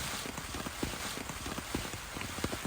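Heavy driving rain pelts a tent in winter on a small mountain island, a dense, loud, constant patter with sharper individual drop hits scattered through the roar.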